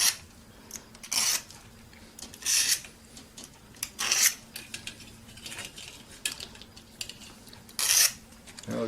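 Red insulation being scraped off magnet wire, a series of short, rasping scratches in separate bursts with brief quiet gaps, fairly close and alone.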